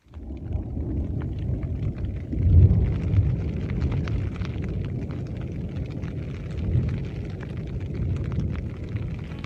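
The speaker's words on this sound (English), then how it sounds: "It's been thundering." Mountain thunder at a lakeside camp in Wyoming's Wind River range, a long low distant rumble that swells and fades over several seconds, with light crackling above it.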